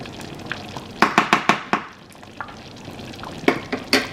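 A spoon stirs thick chicken haleem with garam masala in a pot, making clusters of quick scraping strokes over a soft bubbling sizzle, loud and close.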